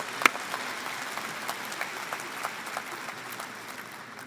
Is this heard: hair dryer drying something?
no